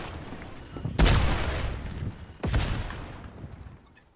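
Video game gunfire in a chaotic shootout, two loud sharp bursts about a second and a half apart, each trailing into a rumbling decay with thinner shots and noise between them.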